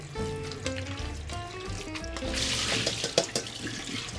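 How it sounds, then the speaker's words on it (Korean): Salted carrots are rinsed under running water at a sink, with close, steady splashing and trickling as the strips are swished by hand. "이제 절인 당근을 물에 한번 헹궈 주시고요"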